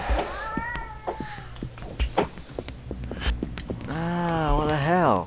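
A kitten in the horror game Erie meows repeatedly, with short mews early on and a long, loud, drawn-out wail near the end, set over faint footsteps and ambient noise.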